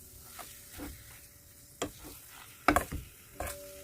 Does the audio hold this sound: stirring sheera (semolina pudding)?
yes